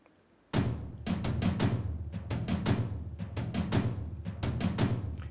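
European folk kit percussion from Logic Pro World plays a dense run of big booming hits and sharp strikes in an irregular rhythm, loud and close, with no talking.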